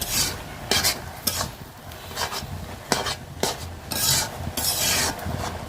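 Red amaranth greens (lal shak) cooking in a pan on a home stove, with repeated scraping, stirring strokes and a soft sizzle in irregular bursts, close and moderately loud, no voices.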